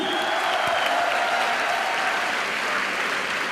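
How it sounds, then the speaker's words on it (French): Crowd at the Toulouse Game Show 2012 convention applauds a Captain America cosplayer, a dense, steady wash of clapping that holds loud and even throughout. "On applaudit Captain America qui s'est quand même vaillamment battu."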